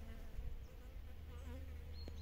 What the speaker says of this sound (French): Il y a toutes sortes d'abeilles.